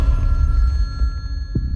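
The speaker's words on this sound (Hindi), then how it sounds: "Attend the phone sir. सुना नहीं आपने?" A telephone bell rings in a tense office scene, a steady loud ring with a low rumble underneath, and no voices in this stretch.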